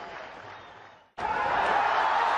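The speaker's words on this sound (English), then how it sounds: "There you see the Pakistani camp applauding his effort" Spectators in the Pakistani camp at a Pakistan versus India cricket match applaud a batsman, a dense wash of clapping that dips briefly, then surges back louder and sustained.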